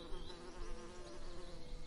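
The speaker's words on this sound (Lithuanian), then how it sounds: "Bitė skrenda virš gėlės." A bee flies over a flower, giving a steady, continuous droning buzz that stays close and fairly loud for the whole short stretch, with no voices.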